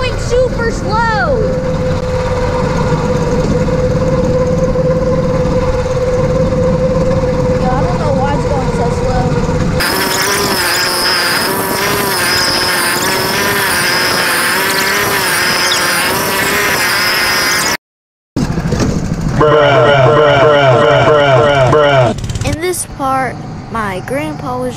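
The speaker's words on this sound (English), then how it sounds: "Got the slowest go-kart, because look, here I passed one person" Go-kart engines racing around a track, a loud continuous buzzing whine that shifts in pitch as karts accelerate and pass, with a person talking over the engine noise throughout.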